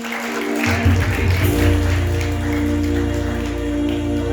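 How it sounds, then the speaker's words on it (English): Audience applause at a live comedy-and-music jam session, a dense steady patter of many hands clapping, fairly loud and sustained with a low musical hum running underneath. "Round of applause for that."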